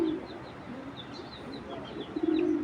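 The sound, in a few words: cooing aluminium silver pigeon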